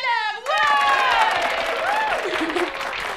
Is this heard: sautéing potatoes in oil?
no